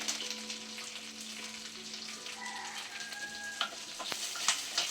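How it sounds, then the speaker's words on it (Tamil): Dried red chillies sizzle steadily in hot oil, a continuous close crackle with a few clinks of a wooden spoon stirring toward the end. "வரமிளகாய் லைட்டாக கொஞ்சம் எண்ணெயில் வதக்குங்க"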